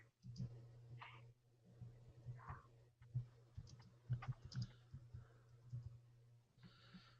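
Keys tapped on a computer keyboard while entering a search for a DUI attorney in West Palm Beach, a quiet run of soft clicks in irregular bursts over a steady low hum.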